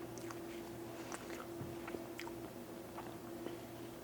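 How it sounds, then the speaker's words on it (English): Mashed potato bombs are chewed right at the microphone, giving soft, wet, squishy bites and mouth sounds over a steady background hiss, faint but continuous. "I feel like my mic is way too close to my face to be chewing"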